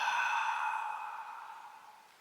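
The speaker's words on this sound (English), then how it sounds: "Close the back side of the throat, make a little noise as you exhale." A single long ujjayi-style yoga exhale through a constricted throat, a soft airy hiss that starts fairly strong and fades steadily over about two seconds, close and alone without talk.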